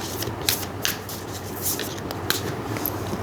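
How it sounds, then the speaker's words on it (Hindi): Tarot cards being shuffled by hand, a steady close riffling texture with soft flicks and slaps throughout, no talk. "मैं वापस शफल करके निकालूंगी कार्ड्स"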